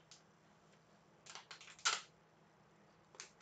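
A big piece of tape being cut, a few quick, faint snips and crinkles clustered together, then a short tearing rasp near the end, in a quiet room with no talk.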